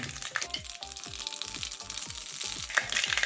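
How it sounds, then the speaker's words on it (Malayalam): Mustard seeds pop and splutter in hot coconut oil, a rapid series of sharp crackles over a constant sizzle, close and lively. "കടുക് പൊട്ടി"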